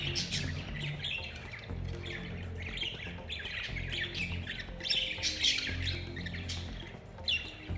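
Continuous shrill squawking and chattering from budgies, dense and steady throughout with sharper bursts near the end.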